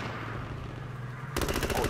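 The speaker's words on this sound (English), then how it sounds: "He got an MG." Machine gun fire in the H1Z1: Battle Royale video game, a steady hum giving way to a loud, rapid burst of automatic shots that rattles on to the end.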